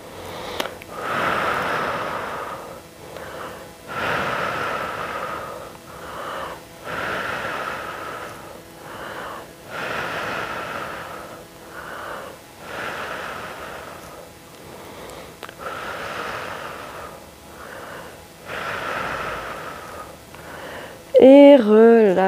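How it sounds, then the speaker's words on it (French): Rhythmic breathing during a muscle-strengthening workout, with repeated cycles of deep inhales and forceful exhales close to the mic, steady and loud for about twenty seconds. "Inspire et tu souffles."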